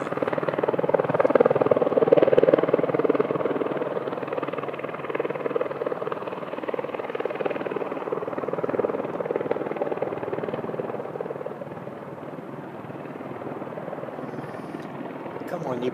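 Apache helicopter hovering during a night military exercise, a steady distant rotor drone with a throbbing low rumble that fades slightly toward the end, voices talking over it.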